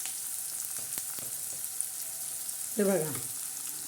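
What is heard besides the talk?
onion frying in a pan with chili powder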